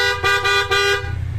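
Kymco scooter horn, newly rewired, sounds loud and close in two quick bursts, a brassy electric toot repeated with a short gap, then stops.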